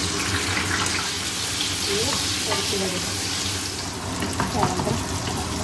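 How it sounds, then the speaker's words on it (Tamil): Steady crackling sizzle of eggs frying in hot oil, close and continuous, with faint clinks and some background noise. "எண்ணெயை கொஞ்சத்தை கூட நல்லா சூடாகும் முட்டையை ரொம்ப பொறிக்கட்டும்"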